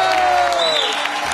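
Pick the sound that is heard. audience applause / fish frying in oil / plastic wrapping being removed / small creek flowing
audience applause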